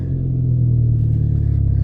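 A car engine idles and settles, a steady close mid-low rumble with a slight pulsing beat as the revs drift down, with no talking.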